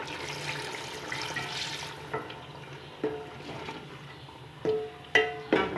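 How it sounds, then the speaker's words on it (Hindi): Water pours into a pot of browned aloo gosht in a brief rushing splash, followed by a few sharp clinks of utensils against the pot. "अब इसमें थोड़ा सा पानी ऐड करते हैं।"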